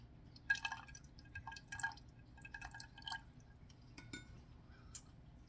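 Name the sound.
lemon juice being added to cheesecake mixture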